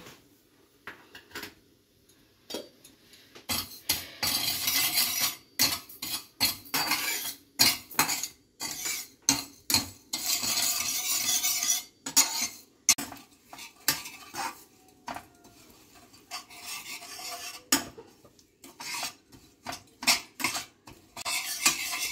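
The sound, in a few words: stirring sugar caramelizing in a pan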